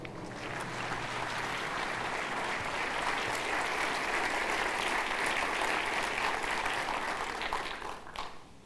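Sustained, dense applause from an audience welcoming Colonel Griffith to the Gathering of Eagles stage, steady and loud throughout before tapering off at the end.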